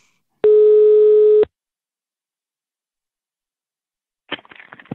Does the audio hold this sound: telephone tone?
yes